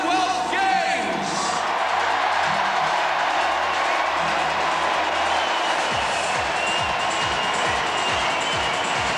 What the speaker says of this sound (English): So let's hear you shout for the athletes of the 17th Commonwealth Games!